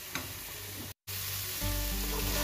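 Chicken perattu sizzling steadily in a pan as it is dried down, a continuous close frying hiss with a brief dropout midway, then a fuller, louder sizzle toward the end; no one speaks.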